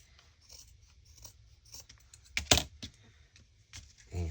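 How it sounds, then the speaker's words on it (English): Scissors cut through a paper apron for a junk journal, with a few crisp snips and rustles of paper, one louder cut near the middle, close and without speech. "So we're just going to cut that off."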